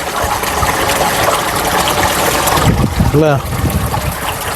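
Water running in a small, clean waterfall stream in New Zealand, a constant close rushing and trickling that fills the whole clip, with a brief spoken question near the end.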